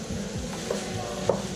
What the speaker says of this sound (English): Here I'm browning some meat for a simple red meat sauce.